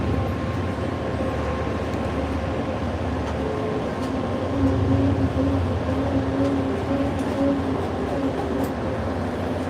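A Red Line subway train at South Station hums and rumbles steadily in the station, with a low mechanical drone and faint tonal whine, swelling slightly louder midway.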